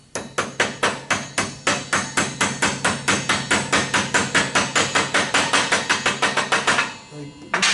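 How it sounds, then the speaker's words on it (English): Steady hammer taps driving pins into metal while building a weathervane, about thirty sharp evenly spaced strikes, loud and close, slowing and stopping near the end. "you can just use a hammer and tap them in."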